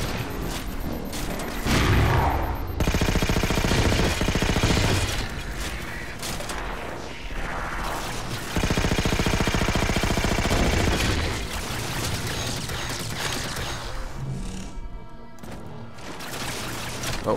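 Gunfire in the video game Halo 4 rattles in dense, sustained automatic bursts with mechanical clanks and layered battle effects, loud and continuous, with occasional talk.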